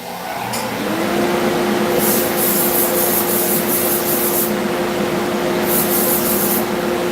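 Sandpaper of 220 grit rubbing steadily over a buckeye burl knife handle being shaped, a continuous close scratchy hiss with brighter bursts of strokes, heard alone without talk.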